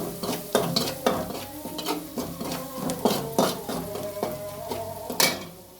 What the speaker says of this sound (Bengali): হলুদ মরিচ দিয়ে দিচ্ছি, এখন আমি এটা একটু নেড়ে নিই।